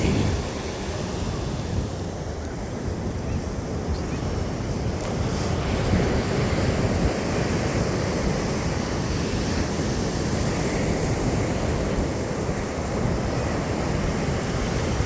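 Strong wind buffets the microphone over steady crashing ocean waves on a beach, a loud continuous wash of surf and gusts with no talking.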